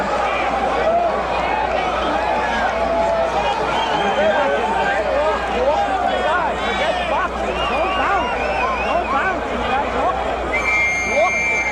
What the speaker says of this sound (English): The crowd has kept up a bedlam since this fight started.